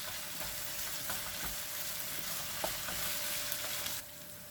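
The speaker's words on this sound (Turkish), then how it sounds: "Salçayla da güzelce kavuruyorum." Minced meat frying with tomato paste and spices in a pan gives a steady, dense sizzle, close and unbroken, with faint scraping stirs now and then and no voices.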